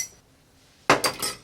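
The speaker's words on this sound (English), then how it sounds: "Then we just get some ice." Ice cubes dropped into a glass while mixing an Angel Face cocktail of apple gin, Calvados and Amaretto: three quick, close clinks in a row after a near-silent pause.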